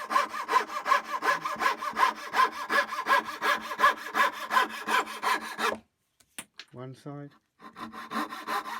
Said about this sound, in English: I'm going to cut out that curve there with a coping saw